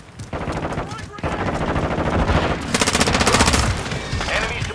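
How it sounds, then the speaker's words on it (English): Sustained automatic gunfire in the Call of Duty video game, rapid bursts of rattling shots layered with dense game effects, loud and close throughout with shouted voices mixed in. "I'm taking fire!"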